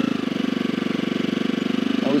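A motorcycle engine runs steadily with a regular low pulsing throb while the bike is leaned into tight turns during riding practice, with a voice speaking over it.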